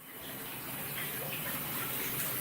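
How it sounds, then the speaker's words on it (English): A shower running to steam up a bathroom, a steady broadband hiss of falling water heard close and alone. "so we're steaming up the shower for him so he can breathe"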